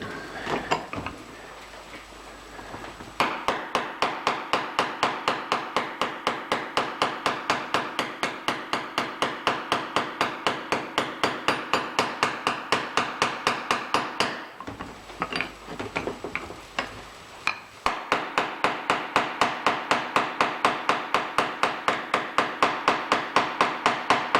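Hammer peening metal over on a steady rest: long runs of rapid, evenly spaced metallic blows, loud and close, broken by a short pause and then resuming at the same steady rhythm.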